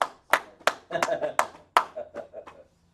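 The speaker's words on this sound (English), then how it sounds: "Now let's clap it up for the brother." A small class or audience clapping at a gathering, a handful of separate sharp claps that gather into a short uneven burst of hand claps before trailing off into quiet, close and moderately loud.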